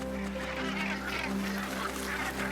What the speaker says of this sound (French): la baie, abrite la plus importante colonie de fous de bassin en Amérique du Nord